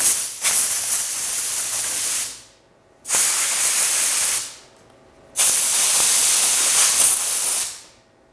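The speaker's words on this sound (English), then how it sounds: "highly recommend using an air compressor hose" Three long hissing blasts of compressed air from an air compressor hose, blowing small laser-cut acrylic pieces off the bed of an xTool P2 laser cutter, each burst about two seconds with brief quiet gaps between, close and loud.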